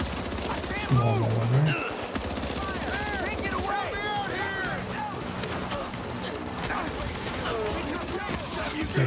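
Gunfire from enemies in a video game, rapid bursts crackling through a busy mix of game sounds, with someone talking over parts of it.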